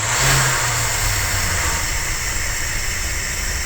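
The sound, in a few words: Dodge 360 motorhome engine running, warmed up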